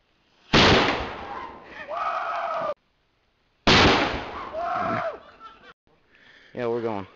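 Two sharp firework blasts set off over a Fourth of July weekend, each a loud sudden burst followed by hissing and crackling, with people shouting and talking in between.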